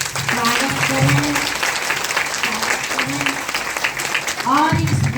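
Audience applause at the inauguration of a Brahma Kumaris meditation centre in Gwalior fills the room with steady clapping, while a voice talks over it and a burst of cheers swells near the end.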